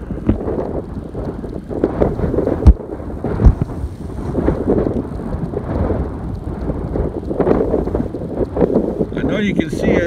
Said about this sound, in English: That's wind, a lot of extreme wind.